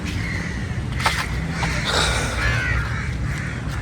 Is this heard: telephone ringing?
no